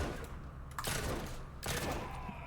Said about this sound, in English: it would appear I'm being shot